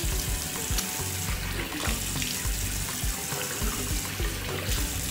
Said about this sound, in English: Wash until all of the soap is finished.